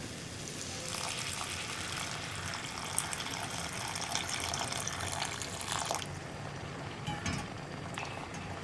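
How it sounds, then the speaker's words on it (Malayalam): Boiling water pours into a pan of egg curry gravy made with ground cashew, a steady rushing, sizzling gush that runs for several seconds and thins out near the end, with no talk. "തിളച്ച വെള്ളം തന്നെ ചേർക്കാം."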